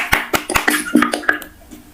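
A single pair of hands claps about nine times at close range in a quick, slightly uneven rhythm, then falls quiet near the end.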